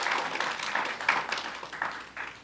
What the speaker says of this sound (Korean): 좀 박수 좀 쳐주세요.